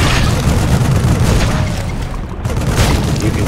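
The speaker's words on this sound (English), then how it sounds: "Let me try out these shredder grenades." Shredder grenades go off in StarCraft II, a loud continuous booming blast with dense rumbling debris filling the whole moment, no talk.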